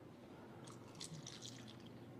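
Water poured onto a tea bag, a soft, faint trickling and dripping with light splashy spatters in the middle, quiet and close, no talking.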